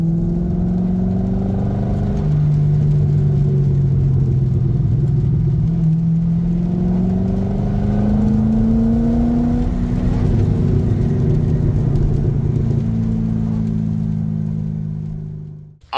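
A Chevrolet Corvette Grand Sport with misaligned steering drives along, its engine a loud, steady close-up drone that climbs in pitch through repeated accelerations, with no voices.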